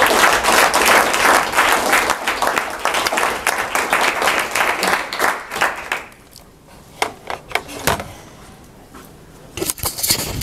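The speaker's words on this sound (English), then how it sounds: "a really healthy round of applause for Ellen." Applause from a class audience for a student presentation, loud and dense for about six seconds, then thinning to scattered individual claps and a brief renewed burst near the end.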